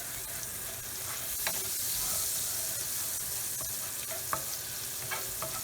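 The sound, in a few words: sauteing crushed garlic in a pan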